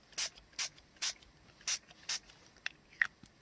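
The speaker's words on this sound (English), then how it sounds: "So I'm going to spray." Five sharp, close pumps of a spray bottle misting water-based Distress ink hiss out in a quick, fairly even rhythm, followed by a couple of softer clicks.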